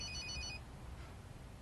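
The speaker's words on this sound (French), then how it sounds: "Téléphone. Ça sonne," A telephone rings indoors in a domestic comedy scene, its high repeating bell tones sounding clearly for about half a second before cutting off, leaving quiet room tone.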